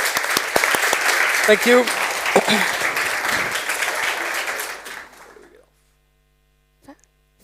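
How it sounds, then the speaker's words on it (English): An audience at a CogX 2022 festival stage talk applauds its guests, a dense round of clapping for about five seconds that fades quickly into quiet, with a brief spoken thanks over it. "Can we give a round of applause to our guests?"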